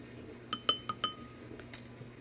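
A spoon stirs inside a glass jar, giving four or five bright, ringing clinks in quick succession followed by a couple of softer taps, close and alone.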